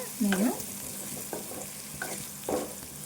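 Chicken pieces fry in a pan while being stirred, a soft sizzle broken by several short scraping stirs at close range, with no talk.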